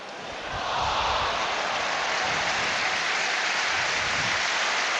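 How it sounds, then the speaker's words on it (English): Spurs fans at a Tottenham Hotspur versus Manchester United Premier League match applaud a player in a large stadium, a broad rain-like roar of clapping swelling in and holding steady at a distance. "receives applause from the Spurs fans, sympathetic ones"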